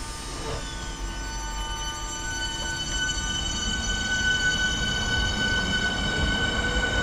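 A train rolls past in London, its steady rumble of wheels and wagons loud and close throughout, with a faint metallic squeal and tonal hum riding over the continuous noise.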